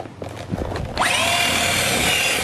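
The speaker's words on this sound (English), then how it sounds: "This drill is so bad." A weak power drill whirs up sharply after a second of background clatter, then holds a steady, loud high-pitched spin close by.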